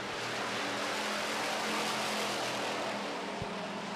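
Pure stock race cars, a Chevrolet Camaro battling a Ford, roar through turn 4 onto the front straightaway of a short track, a dense continuous engine din from the pack heard at a moderate distance.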